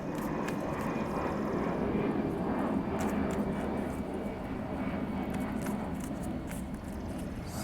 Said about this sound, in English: the plane is going over right as I started the video